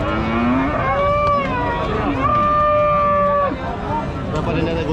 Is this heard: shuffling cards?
no